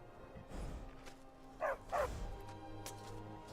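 Two short, loud dog barks from a bird-dog-like hound resembling a chocolate lab in modded Skyrim, standing out briefly over quiet background game ambience.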